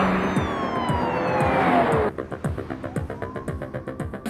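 A police car in a high-speed highway pursuit at about 90 mph wails with a loud, sweeping siren over engine roar. The siren cuts off abruptly partway through, leaving a steady, rhythmic throbbing pulse.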